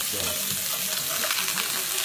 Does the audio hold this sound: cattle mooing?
no